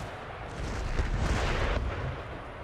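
Howitzer artillery firing in Empire: Total War rolls out as a dense, rumbling barrage of booms and blasts, sustained and heavy for a couple of seconds before easing off.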